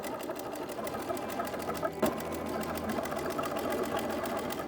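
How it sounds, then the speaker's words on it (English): A sewing machine runs steadily, stitching along both long edges of trim pinned onto fabric while sewing a Simplicity S3228 pattern, its continuous whirring motor and needle clatter close and even throughout. "once you have that pinned, you will stitch along both long edges."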